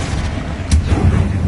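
A Confringo blasting spell cast in Hogwarts Legacy on PS5, a short booming blast with a sharp crack in the middle, heavy low rumble, loud and close.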